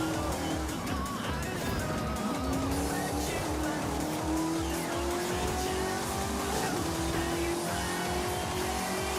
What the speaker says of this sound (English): A random car.